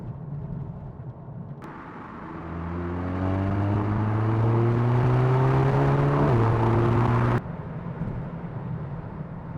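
Volkswagen Golf GTI TCR accelerating from inside, engine note climbing steadily in pitch, then a quick seamless gear change drops the revs before the sound cuts off, loud and close.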